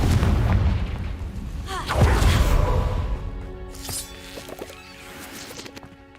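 Confringo fire spell exploding in the Hogwarts Legacy video game: a heavy booming blast midway through, trailing into crackling, rumbling debris over a bed of other game noise.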